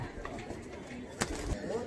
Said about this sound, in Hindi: अपने सुमित भाई की बहुत चैंपियन कबूतरी है